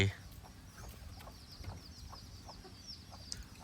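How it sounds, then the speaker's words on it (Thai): Chickens cluck softly on a farm among ducks, scattered faint calls over a rustling outdoor background. "มีเป็ดมีไก่"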